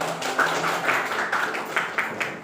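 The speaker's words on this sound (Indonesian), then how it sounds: "Tepuk tangan dulu untuk Nabila." A classroom of students claps for a classmate, a dense, steady patter of many hands with several sharper accents, sustained throughout at moderate level.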